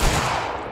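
Infantry volley fire in the Mount & Blade Warband game, Anglo Zulu Reloaded event: a dense burst of overlapping musket shots cracks at the start, then rolls on as a sustained loud rumble with no talk.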